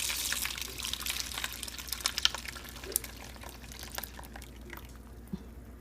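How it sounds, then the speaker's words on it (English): Blended red chili sauce is poured through a strainer onto chicken, giving a soft, continuous wet trickle and patter with small drips, faint and close, with no talking. "I'm going to go ahead and put the strainer in there, and we're going to pour in the chili."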